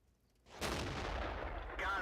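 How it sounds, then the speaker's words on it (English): A French tier VI ARL V36 tank destroyer's gun fires in World of Tanks, a single loud, close blast with a long rumbling tail after a short quiet lead-in. "let's see if we can get a shot on that T-49."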